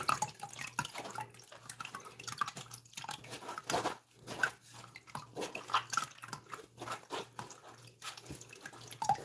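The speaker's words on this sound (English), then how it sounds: "Mush it around in the strainer like so. Juice it." Soursop pulp being mashed around in a kitchen strainer for juice, a steady run of soft squelching, wet crunching and dripping sounds, close and fairly quiet throughout.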